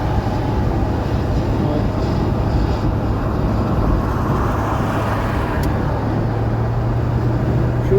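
A 1981 Cadillac Seville cruising with its window down fills the cabin with a steady, loud roar of rushing wind and road noise throughout, and a single word is spoken briefly.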